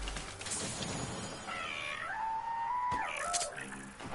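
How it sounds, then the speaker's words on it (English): A house cat meows in a long, drawn-out wail that rises and then holds steady, close and clear over the background noise of a Fortnite match. "You think they might have heard my cat?"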